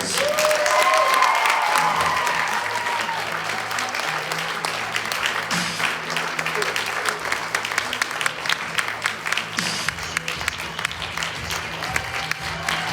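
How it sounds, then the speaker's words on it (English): A theater audience applauds the cast of a set of short plays, a full sustained roar of clapping with some cheering, later breaking into sharper individual claps, while a voice speaks and background music plays. "Folks, give them all a round of applause"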